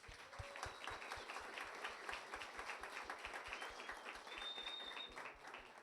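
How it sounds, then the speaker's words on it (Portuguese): A church congregation claps together in a fast, regular beat, many hands landing in unison, heard fairly faint and at a distance throughout. "Uma salva de palmas para eles."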